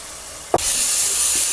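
Ginger garlic paste drops into hot ghee in a pan while making mutton ghee roast, and a loud, close hiss of frying sizzle bursts in and holds steady after it.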